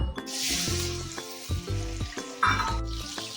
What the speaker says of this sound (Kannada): ಸ್ವಲ್ಪ ಎಣ್ಣೆ ಹಾಕೊಳ್ಳೋಣ. ನೋಡಿ, ಮೊದಲಿಗೆ ಟೊಮೊಟೊ ಹಾಕ್ಕೊಳ್ಳೋಣ.